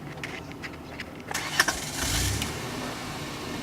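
A manual car's engine cranks and catches after a stall in first gear, a brief starter whir followed by the motor settling into a low, steady idle close by.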